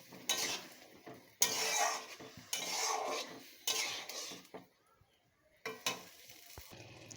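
Boiled lentils are poured over sautéed ridge gourd in a pot and stirred, producing a few separate bursts of clattering spoon-on-metal scraping and faint sizzle, close and quiet, with pauses between.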